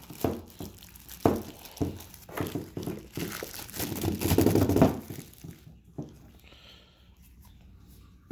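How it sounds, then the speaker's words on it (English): Plastic wrapping crinkles and rustles around a Milwaukee M12 impact ratchet as it is handled, a busy stretch of close crackling that fades into quiet near the end. "wrapped up in plastic."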